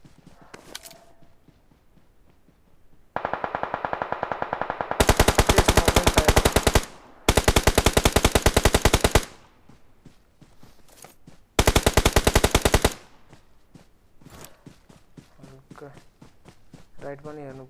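Rapid automatic gunfire in PUBG Mobile, several loud sustained bursts of machine-gun fire with short gaps, scattered single shots and footsteps before and after, with voices talking around them.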